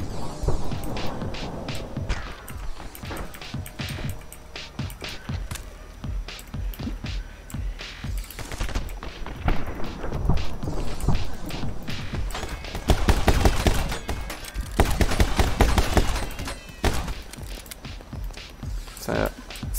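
Rapid bursts of gunfire from the slow-motion shooter game My Friend Pedro rattle on throughout, dense and close, with crashes and impacts mixed in under busy game sound.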